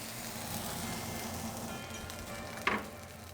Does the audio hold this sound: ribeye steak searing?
yes